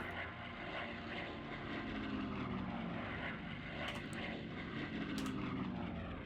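Aircraft engines in the strategy video game Shadow Empire, a steady droning propeller hum that holds even and continuous throughout with no talk.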